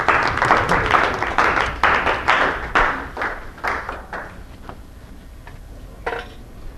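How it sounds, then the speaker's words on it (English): Scattered clapping from a small lecture audience after a physics demonstration on momentum, a handful of distinct claps tapering off and thinning to sparse isolated ones over several seconds. "Little applause for the momentum."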